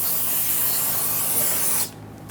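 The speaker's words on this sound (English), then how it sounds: "Spray it all down. Make sure you get rid of all the old residual brake fluid." A loud, steady aerosol spray of brake cleaner on the rear brakes of a Kia Sorento during a brake hose replacement hisses continuously for nearly two seconds, then cuts off abruptly.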